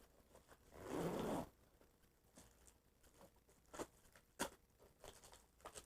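Zipper on the main pouch of a bug-out bag pulled open in one quick loud burst, followed by faint rustles and light clicks of gear being handled nearby.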